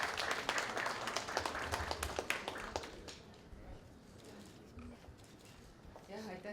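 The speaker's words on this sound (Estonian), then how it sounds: "kutsume ka õpetaja Julia Šipilova, ka temale aplaus" Audience clapping at a graduation ceremony honoring a teacher, a burst of fairly close, dense claps over the first few seconds that thins out and fades, with voices talking quietly afterward.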